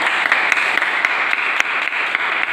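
Students in a classroom lesson clap together in a dense, steady round of applause, close and fairly loud, with no talk over it.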